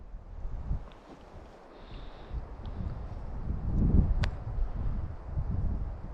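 Strong southerly wind sweeps across a frozen lake during ice fishing, roaring and buffeting the microphone in uneven gusts that swell toward the middle, with a faint brief high tone partway through.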